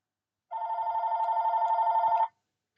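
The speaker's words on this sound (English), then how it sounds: "Sorry about the phone, but I should have took it out the hook beforehand." A telephone bell rings once, a steady warbling ring lasting almost two seconds, fairly close and alone against silence.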